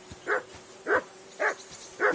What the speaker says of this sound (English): Can you get your dog to shut its beak?